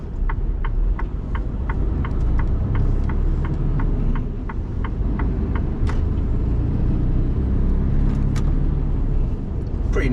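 Mercedes 2548 truck being driven, a steady low engine and road rumble filling the cab throughout, with a regular ticking of the indicator over it for several seconds.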